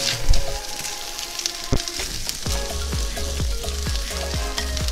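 Onions hitting a hot pan for vegetarian stuffed bell peppers, a loud steady sizzle with scrapes and clatter of stirring, close and without talk.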